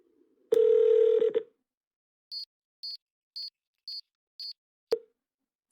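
A telephone rings in a call left unanswered: a short buzzing tone, then five evenly spaced high electronic ring pulses, clear and alone in quiet, ending with a soft click.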